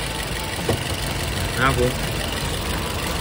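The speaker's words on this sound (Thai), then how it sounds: "สภาพเสียงเครื่องเงียบมากเลยนะครับ" A 2012 Toyota Vios 1.5 G idles with a quiet, steady hum, held low beneath someone talking close by.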